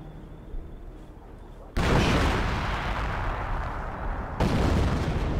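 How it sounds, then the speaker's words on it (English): Artillery fire in a Company of Heroes match: after a quiet start, two loud booming barrages break out, each turning into a sustained roar of blasts and rumble. "He's going to delete it with artillery."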